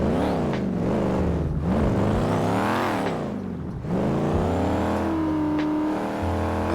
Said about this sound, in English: Listen to this car, y'all. It sounds so good.